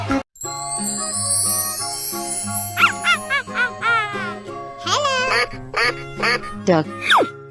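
A cartoon duck quacks in a quick series of loud, close nasal calls after a rising chime, set against background music in a playful animal transformation game.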